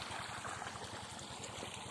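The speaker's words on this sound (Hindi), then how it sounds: "ये इस तरीके से साइफन से पानी आ रहा है" Water pours steadily from a siphon into a farm field beside guava and eucalyptus orchards, making a continuous, fairly faint rushing flow with a soft regular pulsing underneath.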